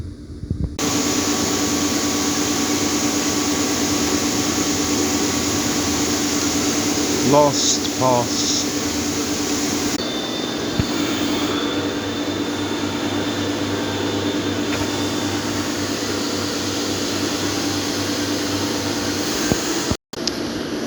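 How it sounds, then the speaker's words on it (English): A milling machine cuts a metal keyboard case with a steady, heavy droning hum and tonal whine lasting throughout, with brief chattering bursts midway and a short cutoff near the end; a voice speaks briefly over it. "The mill is starting to sound a little heavy, but I don't think it will break."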